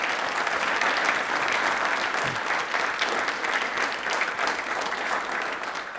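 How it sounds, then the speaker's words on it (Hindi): Sustained, loud applause from a studio audience at a televised quiz programme, dense steady clapping filling the whole stretch without letting up. "तालियां दिल से जोर से बजा दीजिए एक बार"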